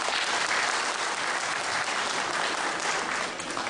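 A crowd of parents and children applauds at a school end-of-year celebration, a dense, continuous wash of clapping that stays loud and even, then eases slightly near the end.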